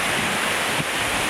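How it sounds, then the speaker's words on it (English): Bridesvale waterfall on the Isle of Skye, a set of falls cascading gently, gives a dense, steady rush of falling water with no voices. "What a beautiful set of falls."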